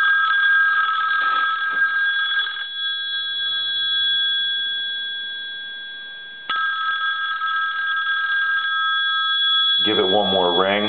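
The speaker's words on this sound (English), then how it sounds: "I'm going to go ahead and ring the telephone now." The mechanical bell of an ITT rotary desk telephone rings in two long bursts separated by a pause, loud and close, with a voice briefly at the end.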